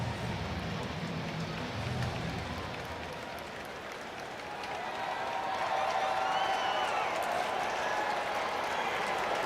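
Crowd at a baseball stadium during an MLB game, Tampa Bay Rays at Baltimore Orioles, cheering on the pitcher with sustained roar and scattered clapping that swells louder in the second half.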